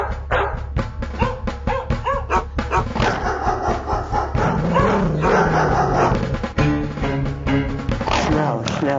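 Dogs bark and yip amid shouting in a chaotic recreated scene of SS guards arriving with dogs, sharp repeated barks layered under loud voices and commotion throughout.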